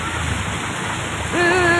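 Heavy rain pours down in a steady loud wash during a flash flood, with a tonal hum rising partway through; no voices.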